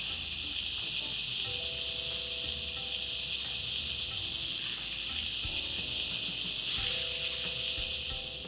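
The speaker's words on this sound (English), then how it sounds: "Time to add in fresh garden peas. Let's saute this for a while as well." Fresh garden peas sauté in a pan for a methi matar palak dish, giving a steady, even sizzle and hiss throughout while soft background tones play underneath.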